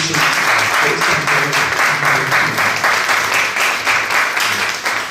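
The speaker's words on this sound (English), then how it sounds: "Big round of applause for Colin." An audience gives a sustained round of loud applause, dense clapping running steadily from start to finish at an interview event.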